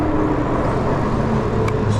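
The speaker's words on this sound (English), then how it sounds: "we got lots of cars coming here" Road traffic noise heard from an ebike stopped at the roadside, a steady broadband rush of passing cars that stays fairly even for two seconds with no talking.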